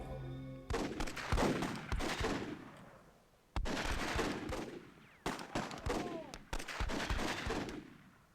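Gunfire in a WWII match of the Myth II Soulblighter video game comes as loud, close bursts of rapid shots in several volleys, each cracking and then echoing away, with brief pauses between.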